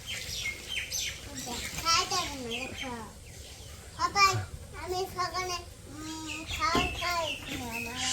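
A pet myna bird gives repeated chirps and whistled calls close by, mixed in with a child's chatter and adult voices talking throughout.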